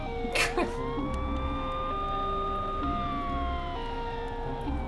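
A police car siren from the video game Schedule 1 wails continuously with slow rising and falling tones over game background noise, moderately loud throughout.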